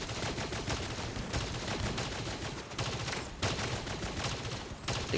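Video game gunfire, dense rapid bursts of shots running continuously with no gaps, steady and fairly loud with no talk over it.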